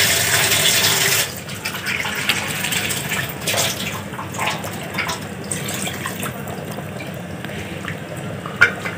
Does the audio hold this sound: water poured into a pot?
yes